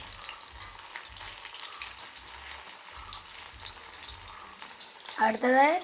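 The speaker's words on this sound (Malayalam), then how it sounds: "നമ്മൾ ചിക്കൻ മറിച്ചിടാൻ പോവുകയാണ്" Chicken pieces sizzle and crackle steadily in a hot pan as they are turned over, with soft recurring thumps underneath and a brief louder scrape or splash of activity near the end.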